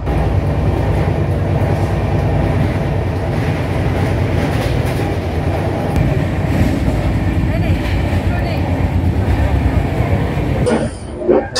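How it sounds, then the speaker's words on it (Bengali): Shalimar–Puri weekly superfast express 22835 rolling along from Kolkata, a loud steady rumble and clatter of wheels on rails heard from inside the coach, continuous throughout, with a brief burst of speech near the end. "বন্ধুরা, আমরা কিন্তু এই ট্রেনের সেকেন্ড স্টপেজ খড়গপুরে এখন ঢুকছি"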